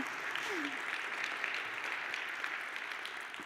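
An audience claps steadily throughout, a dense wash of applause at moderate distance with no pauses.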